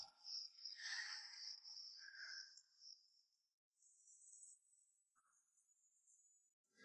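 Faint, thin chirping of insects drifting in and out against a quiet night background, with brief pauses between bursts.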